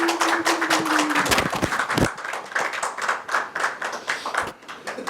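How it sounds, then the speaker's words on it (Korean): A seminar audience at a church pastors' gathering claps to welcome a seminary professor to the stage: steady, dense applause from many hands, loud and continuous, with a brief tone at the start. "박수로 환영하겠습니다."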